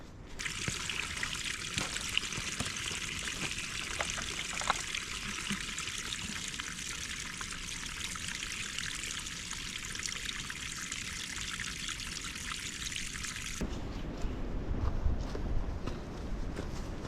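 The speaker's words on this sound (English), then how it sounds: "It's got water here at the spring at mile marker 23. Water was flowing great" A trail spring at mile marker 23 on the Benton MacKaye Trail trickles steadily as water flows, a close continuous splashing stream that shifts in tone near the end, with no talk.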